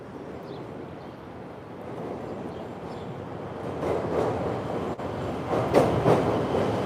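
An elevated train passes overhead in Chicago, a low rumble that swells steadily and turns louder and rougher toward the end, with no talk over it.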